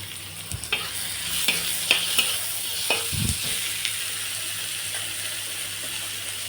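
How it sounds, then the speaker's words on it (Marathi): Chopped onions frying in a pan for a dried-fish curry, a steady sizzle broken by several sharp spatula scrapes and knocks close by, with no talking. "तर कांदा फ्राय करून घेऊ."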